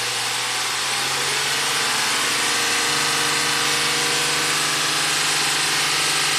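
A Honda Accord engine holds a steady run near 3,000 RPM, a continuous loud droning hum with a constant pitch and no talking, sustained close by throughout.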